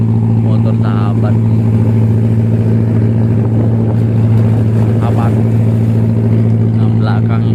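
Steady loud engine drone of jukung motorboats passing on the Saleh river in Indonesia, a continuous close outboard hum with water rush, with people talking over it.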